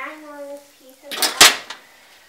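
A skillet with coconut oil on a stove takes a clatter of metal cookware, a bright clanking knock followed by a lighter rattle, close by, just after a voice speaks.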